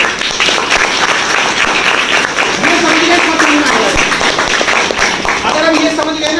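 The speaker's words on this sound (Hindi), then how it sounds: "एक बार जोरदार ताली बजाओ" Loud, dense applause from an audience at a company event fills the whole stretch, with voices mixed in.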